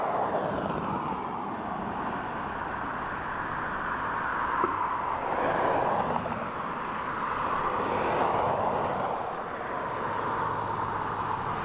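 Boeing 757 airliner landing at Dublin Airport, crabbing slightly into a crosswind, heard as a steady broadband engine roar that swells gently and holds for the whole stretch at moderate distance.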